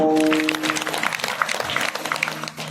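Crowd of devotees clapping at a village fair kirtan, a dense burst of applause that starts loud alongside a held harmonium-like tone and thins out toward the end.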